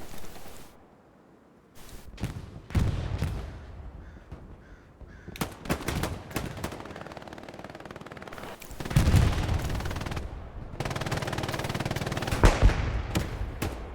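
Machine gun fire in the World War II shooter Hell Let Loose, heard as rapid bursts and single sharp cracks of gunfire mixed with other battlefield noise, loud and close in places.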